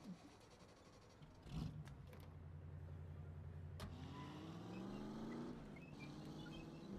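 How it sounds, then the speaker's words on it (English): A car in The Saboteur video game starts off and drives, its steady engine hum rising in pitch as it accelerates, loud and close with no talk over it. "That's my car there. I'll drive."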